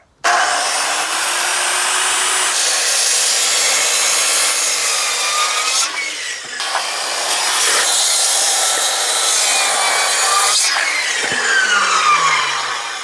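A handsaw cuts notches into a wooden framing post for a DIY timber house frame, giving steady, loud rasping strokes for about thirteen seconds with one brief pause midway.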